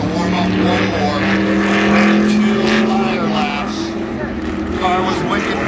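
A Super Modified race car runs a qualifying lap at Berlin Raceway, its engine a loud, sustained high-revving drone that swells and fades slightly as it circles, with an announcer talking over it.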